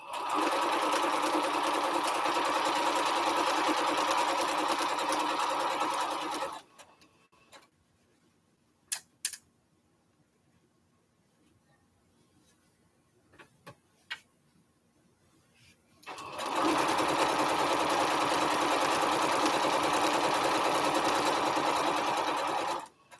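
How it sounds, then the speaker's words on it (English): Sewing machine stitching fabric strips together for a Triple Irish Chain quilt, a long loud steady whir, a quiet stretch with faint clicks and handling, then another sustained run of stitching, close up with no talk. "It's good practice to look and make sure that it's still on track as you're sewing along."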